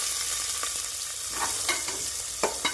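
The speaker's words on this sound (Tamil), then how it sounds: "நன்றாக பொரியவும் நறுக்கிய வெங்காயத்தை சேர்த்துவிடலாம்" Onions sizzle steadily in hot ghee, with a few soft scrapes of stirring over the constant frying hiss.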